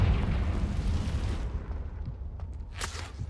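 A Confringo fire spell in Hogwarts Legacy erupts as a deep, rumbling explosion that roars loudly at first and then fades, followed by a few faint crackling pops.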